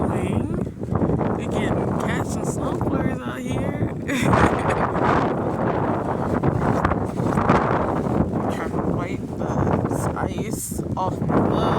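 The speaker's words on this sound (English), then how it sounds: "If the wind would stop blowing, we can catch some snow flurries out here." Cold winter wind roars steadily across the microphone outdoors, making a dense, loud rumble that continues throughout. A voice seems to murmur faintly beneath it.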